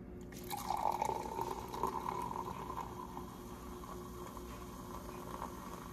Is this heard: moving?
yes